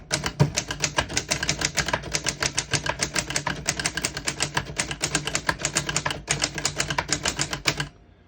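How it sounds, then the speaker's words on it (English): A 1929 Corona Four antique portable typewriter typing a line, with rapid, steady clacking keystrokes close up, nearly continuous for about eight seconds before stopping abruptly. "I'll type a sentence on the next line."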